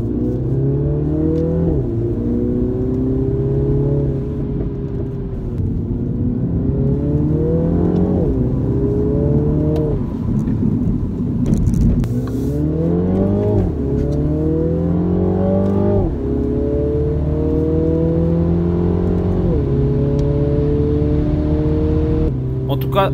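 A Mini Clubman JCW in sport mode accelerates repeatedly, its engine climbing through the gears in rising sweeps with shift breaks, heard from inside the car under steady cabin drone while a person talks over it.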